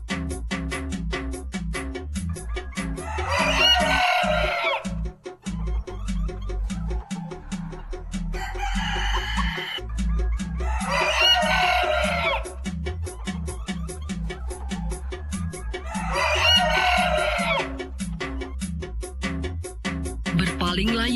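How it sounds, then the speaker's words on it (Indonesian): A rooster crows several times over steady clucking and background farmyard fowl, each loud crow standing out clearly at regular intervals, with no talk. "seketika itu juga ayam berkokok"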